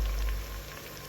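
Tomato paste sizzling and frying in a pot for soup, a steady soft crackling hiss close by, with no talking.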